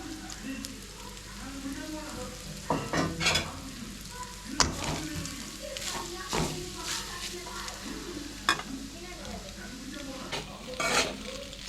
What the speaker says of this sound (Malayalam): തേങ്ങ ചിരണ്ടി വറുത്തരയ്ക്കാനുണ്ട്